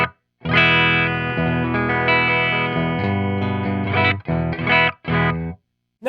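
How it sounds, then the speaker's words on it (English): An electric guitar in a clean tone played through an amp, with sustained chords and notes ringing out and stopping in short phrases toward the end, played alone and close. "here's my clean tone running through this amp"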